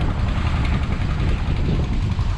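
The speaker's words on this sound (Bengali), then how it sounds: "এই যে ট্রলার ফিশিং ট্রলার" A fishing trawler's engine drones steadily and fairly loud at the seashore, a continuous low rumble with no talk over it.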